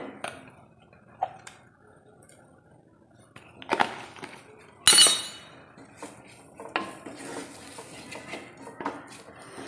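Spoon stirring egg and pappadam curry in a pot, giving scattered clinks and scrapes of utensil against metal, one sharper knock midway, moderately close with no talking.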